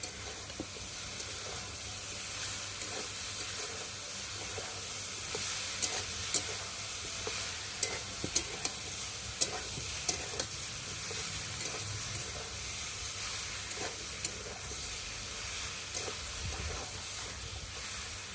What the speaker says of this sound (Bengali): এদিকে সবজি কষানো হবে আর এদিকে সবিনটাও ভালোভাবে ভাজা ভাজা হবে